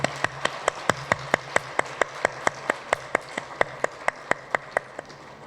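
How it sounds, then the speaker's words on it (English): An audience at a women's gathering claps in a steady, evenly spaced rhythm, about four sharp claps per second, echoing in a reverberant room and slowing slightly near the end. "reverberating applause for ourselves?"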